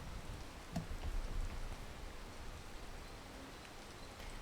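Video-game rain falls as a soft, steady wash of hiss with a few faint drips and low thumps near the start, quiet and continuous with no talking.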